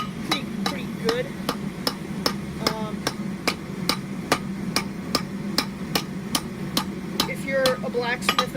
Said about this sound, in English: I'm not very good with the use of a hammer and an anvil